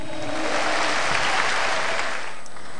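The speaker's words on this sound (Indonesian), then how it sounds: "tepuk tangan buat Metro TV" Audience applause at a televised stand-up comedy show, a dense steady wash of many hands clapping together, loud and continuous before fading slightly at the end, with no voice over it.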